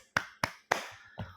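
A few separate hand claps, three sharp and one softer, spaced apart and fairly close, with no crowd behind them.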